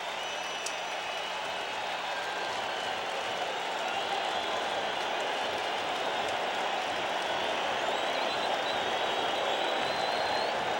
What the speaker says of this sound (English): And the crowd will get even louder,